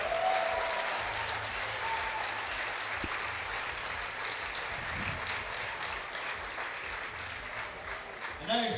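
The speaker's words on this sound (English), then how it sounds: "Round of applause, please." Steady applause from a crowd at a competition grand final's awards announcement, clapping continuously throughout, with faint voices mixed in underneath.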